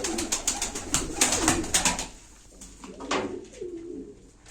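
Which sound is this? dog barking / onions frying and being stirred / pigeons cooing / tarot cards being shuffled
pigeons cooing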